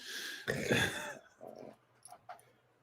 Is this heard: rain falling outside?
no